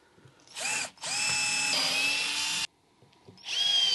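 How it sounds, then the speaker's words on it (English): Power drill pre-drilling holes in wood in a workshop, three separate whining bursts: a short run, a longer sustained spin with pitch shifts as the bit bites, then a final burst starting up, loud and close with brief pauses between. "I'm just going to quickly pre-drill these holes just because then I can countersink them."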